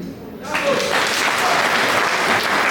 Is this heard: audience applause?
yes